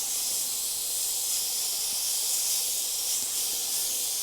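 An airbrush sprays light blue paint onto a T-shirt for a beach scene, giving a steady, close, continuous airy hiss throughout with no talking.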